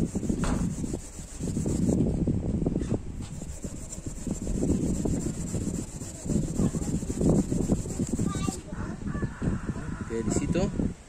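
A wooden carpenter's mallet is polished with steel wool, giving repeated rasping back-and-forth rubs in bursts, close up, with brief pauses between spells of scrubbing.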